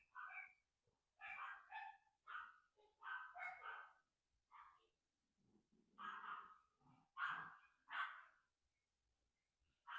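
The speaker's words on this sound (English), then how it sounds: "That's what you hear barking their heads off." A Yorkie and a mini golden doodle bark indoors at a large bird on the patio, a series of sharp, fairly close barks in bursts with short pauses, no talking.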